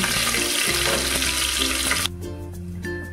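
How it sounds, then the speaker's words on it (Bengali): Bay leaf, dried chilli and panch phoron sizzle loudly in hot mustard oil in a pan, a dense crackling fry that drops abruptly to a quieter simmer partway through, with no voices. "ফোড়নটা ভাজা হয়ে গেছে"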